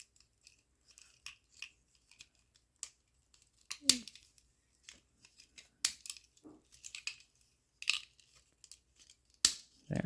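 Plastic parts of an Ultra Magnus car-carrier toy are folded and moved into place with sparse, close clicks, snaps and scrapes, some sharper than others, between quiet pauses.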